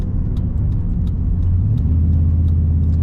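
A 2001 GMC Sierra K3500 SLE crew cab pickup drives along with a steady, loud low engine rumble and road noise, the pitch rising slightly as it moves, with no talking.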